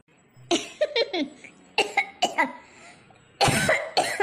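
A series of harsh coughs in quick bursts, several close together, then a pause and two more strong coughs, loud and near.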